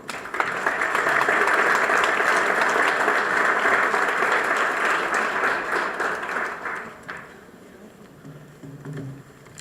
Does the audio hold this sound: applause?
yes